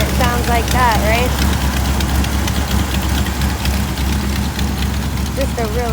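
A 1984 Chevrolet El Camino SS idles with a steady, deep, close rumble, while someone talks over the engine at the start and again near the end.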